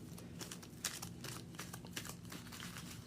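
Soft, quiet riffling and crinkling of playing cards being shuffled, a steady run of small papery flutters close to the microphone.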